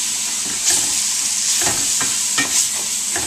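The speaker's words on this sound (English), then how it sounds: "Deglaze it with the Marcella wine and the Philadelphia cream cheese." Marsala wine and cream cheese hit a hot pan, giving a bright steady sizzle with bursts of hissing steam and a few scraping stirs, close and fairly loud.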